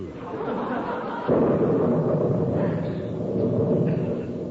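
Thunder sound effect in a radio drama rainstorm scene, a loud, sustained rumbling roll that swells abruptly a little over a second in and carries on steadily to the end.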